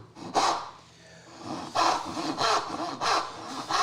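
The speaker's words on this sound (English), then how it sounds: "set my saw in the kerf" Hand saw strokes cutting a wood dovetail, the blade set in an existing kerf: five or six rasping pushes in an uneven rhythm, close and fairly loud, with no talking.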